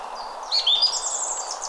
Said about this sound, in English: You hear the birds singing.